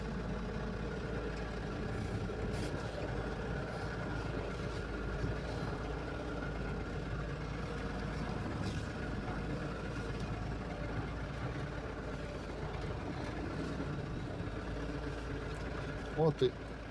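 A car engine idles low and steady while the car reverses slowly back into its parking spot on grass, a continuous quiet hum with a couple of brief louder bumps near the end.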